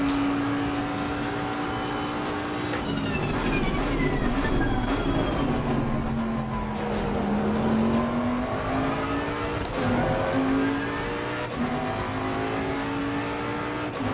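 Bentley GTC race car in Assetto Corsa lapping the Hungaroring, its engine droning steadily and rising and falling in pitch through gear changes and corners, loud and continuous throughout.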